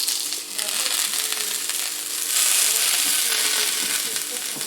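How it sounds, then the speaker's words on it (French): Butter sizzling and frying in a pan on a gas stove, a steady close crackling hiss that swells louder partway through, with no talking over it. "j'ai mis une poêle au gaz. Et je mets du beurre."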